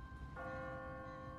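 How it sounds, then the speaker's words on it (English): An automatic church bell on a timer rings in The Walking Dead video game, a single clear tolling strike with a sustained ringing tone that lingers steadily over a low background rumble. "What kind of church bell goes off at 20 past the hour?"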